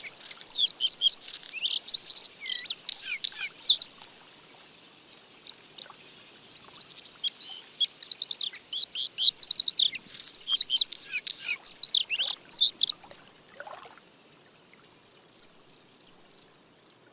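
Bluethroat song in an open northern landscape: varied, rapid phrases of high chirps, trills and buzzy notes, close and clear against quiet, ending in a run of evenly spaced repeated notes.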